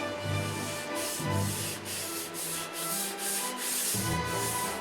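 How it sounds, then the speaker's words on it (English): A painted model stunt plane gets a light sanding with 600-grit paper: close, rhythmic rasping strokes repeat about every half second, a steady back-and-forth scrub with a low hum beneath. "where we are right now is just a 600 light sand out"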